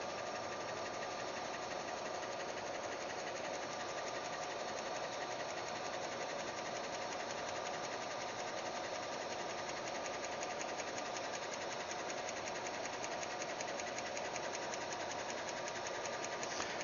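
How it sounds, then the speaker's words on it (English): A Trotec laser engraver with a rotary attachment engraves a logo on a handled mug, giving a continuous, even mechanical whir with a fine rapid pulsing buzz that holds steady throughout, with no voices. "and then the next logo starts engraving"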